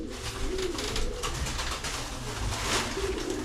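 Pigeons coo steadily inside a loft, their soft repeated calls layered close together over low background rumble, with no talk.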